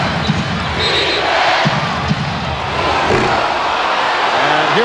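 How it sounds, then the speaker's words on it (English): A basketball arena crowd at an NBA Finals game fills the air with a loud, steady roar and rhythmic chanting, while a commentator's voice runs over it. "The chant of defense from the crowd."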